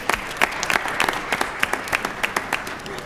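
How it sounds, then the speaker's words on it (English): Audience applause in a state legislative chamber during a session, steady clapping from a crowd lasting about three seconds, fairly close and alone without talk. "a round of applause for them"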